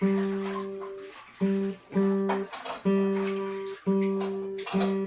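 A plucked acoustic guitar string rings repeatedly, about six sustained notes with brief gaps, close and fairly loud, as if being checked for tuning.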